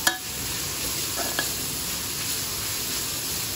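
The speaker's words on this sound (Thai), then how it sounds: "ผมจะลวนหมูสามชั้นประมาณนี้นะครับ" Steady sizzling of pork belly stir-frying in a hot wok, with a couple of faint scrapes of a utensil against the pan.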